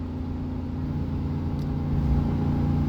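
A 2005 Chevrolet Silverado pickup with a 4-speed automatic pulls a 6,000 lb trailer up a 7% grade at quarter throttle in second gear, giving a steady, loud engine drone and low cabin rumble that builds slightly near the end.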